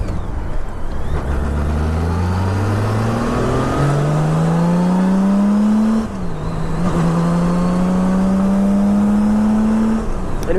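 A Honda Goldwing trike engine cruising at highway speed, its steady drone climbing in pitch as it accelerates through the gears, then holding a smooth, loud hum with one brief dip midway.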